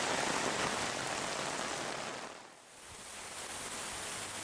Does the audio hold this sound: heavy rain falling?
yes